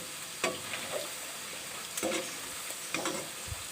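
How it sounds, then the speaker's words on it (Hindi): Vegetable pakoras fry in hot oil, giving a soft, quiet sizzle punctuated by a few clattery stirring and turning knocks. "पकौड़े हमारे अच्छी तरीके से फ्राई हो रहे हैं"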